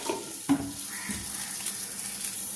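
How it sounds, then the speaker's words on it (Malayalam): Aval upma sits covered on a low flame, giving a soft steady sizzle with a faint clink of the lid or pan near the start; no one speaks. "ഇനി അടച്ചു വെച്ച് നമുക്കൊരു മൂന്ന് മിനിറ്റ് ഒന്ന് വേവിച്ചെടുക്കണം ചെറിയ ലോ ഫ്ലെയിമിലിട്ടിട്ട്"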